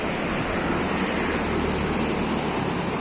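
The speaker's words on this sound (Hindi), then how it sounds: "ये सामने से ब्यास नदी बहते हुए आ रही है" Beas river rushing at its confluence with the Manalsu river near Manali, a steady broadband roar of flowing water that stays loud and unbroken throughout.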